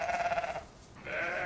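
A ewe on the verge of giving birth bleats twice, close up, with a short quiet gap between the calls.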